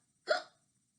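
A voice imitates a single short hiccup, one quick, soft gulping burst, alone and heard close up within near silence, for the hungry creature of a children's story.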